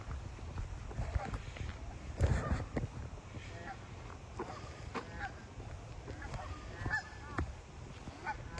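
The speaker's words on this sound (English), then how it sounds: "You listen to the ducks." Ducks outdoors honking and quacking in scattered bursts, some calls closer and louder, over steady ambient outdoor noise with a person talking at times.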